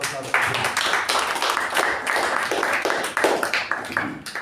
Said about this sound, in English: So can we have a round of applause to